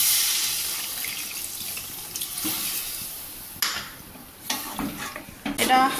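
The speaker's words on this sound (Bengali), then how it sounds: "এরপর জল দেবো।" Water splashes and pours into a cooking pan with a hot ingredient mix, giving faint hissing and sputtering in short bursts, with some stirring clatter.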